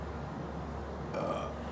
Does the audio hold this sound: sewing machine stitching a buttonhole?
no